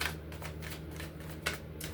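Oracle cards being shuffled and drawn from a deck, a soft continuous papery riffling and sliding close by, with a crisper flick of a card near the end.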